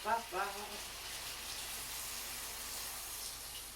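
Tap water runs steadily in a kitchen sink as food is rinsed for a chopped salad, a soft continuous hiss lasting through most of the clip after a brief voice at the start.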